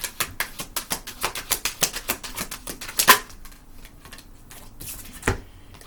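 Brand-new oracle cards being shuffled by hand, a quick run of crisp riffling slaps in steady rhythm, close and clear, easing into softer rustles near the end.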